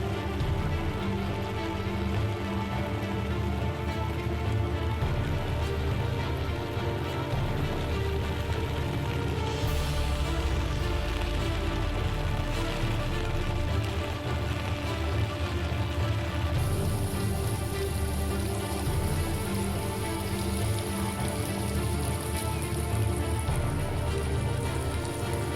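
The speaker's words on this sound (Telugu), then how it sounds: "భద్రాచలం దిక్కైతే రికాము లేకుండా వాన పడతనే ఉన్నదుల్లో" Continuous heavy rain near Bhadrachalam, a steady, dense hiss of drops pattering on surfaces, unbroken throughout with no voices.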